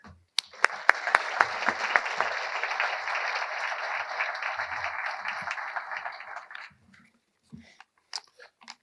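An audience at an optometry college white coat ceremony bursts into applause to welcome a speaker, loud sustained clapping for about six seconds before fading into a few scattered claps.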